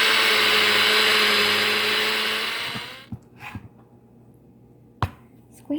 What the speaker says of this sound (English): Start by grinding your sesame seeds into a fine powder. Using a NutriBullet, of course, because of its fantastic milling blade.